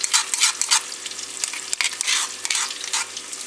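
A ground spice paste with cloves and cardamom hits a saucepan of frying onion and fenugreek, bursting into uneven surges of loud sizzling with a few sharp ticks.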